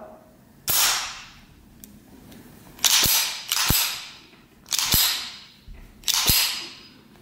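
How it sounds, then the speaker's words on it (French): Sharp metallic clacks of a Beretta Model 1935 7.65 mm pistol as its magazine is inserted and the action locks, four or five separate snaps with short pauses between them, close and loud, no talking. "Je remets mon chargeur et là,"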